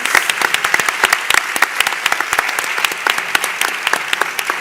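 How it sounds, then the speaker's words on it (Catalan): An audience at a panel talk in Barcelona breaks into applause, a dense, steady patter of many hands clapping that continues without pause. "aplaudiments"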